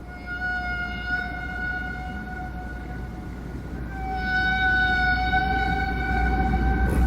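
Humpback whale song picked up by a hydrophone lowered from a sailboat at night: long sustained tonal moans and rising whistles drawn out over a steady low rumble of water noise, growing louder in the second half.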